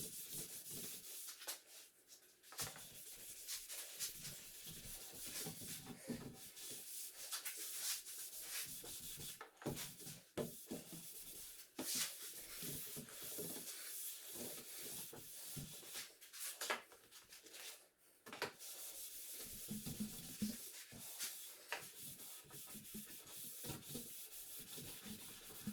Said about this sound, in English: after it's completely dry, I rub in a couple coats of paste wax